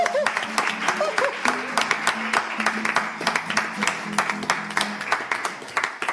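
An audience applauds to welcome an arranger, beatmaker, composer and singer on a French TV set: a moderate, steady spatter of clapping runs throughout, with a voice murmuring faintly underneath.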